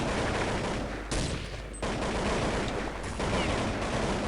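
Rapid bursts of gunfire from weapons in Counter-Strike 1.6 on the Aztec map, dense sustained shooting with several abrupt breaks and restarts, loud and close throughout with no talking.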